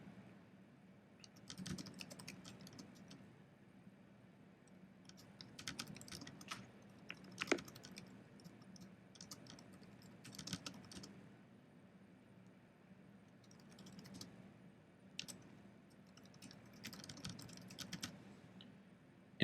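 Soft, intermittent keystrokes on a computer keyboard come in short clusters and quiet pauses, recorded close and faint with no one talking.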